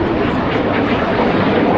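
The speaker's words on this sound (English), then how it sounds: "Better aircraft is being flown by Ian Brett" A display aircraft flying at the Blackpool airshow gives a steady, broad engine drone that holds level throughout, with a commentator's voice likely mixed in.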